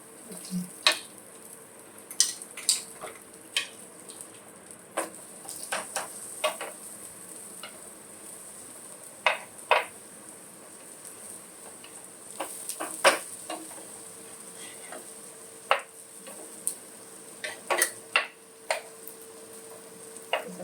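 Sweet potato pheni frying in a pan with powdered sugar and being flipped, a steady low sizzle broken by sharp scattered clicks and taps of the utensil against the pan.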